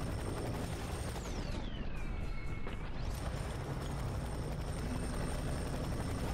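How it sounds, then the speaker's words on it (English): A helicopter in the video game FEAR 3 passes with a loud rotor drone and a falling whine, over a constant bed of game noise, with no voices. "Is that a chopper?"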